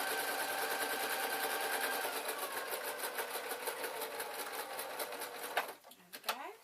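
Sewing machine hemming upcycled denim jeans, a close, rapid, steady mechanical stitching chatter that runs for several seconds, then slows and stops, followed by a few handling noises.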